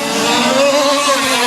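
A 1/5 scale RC racing car engine screams at high revs during an elite-class final on a French championship track, a steady, loud, buzzing whine that rises and falls slightly with no talk.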